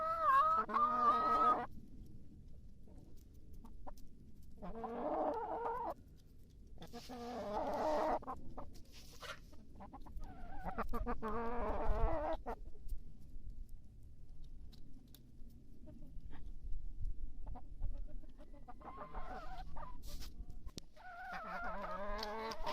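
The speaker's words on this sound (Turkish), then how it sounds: "bizim tavuklar bunlar" Chickens cluck and squawk in bursts close by, with short pauses between calls and a low murmur of background noise.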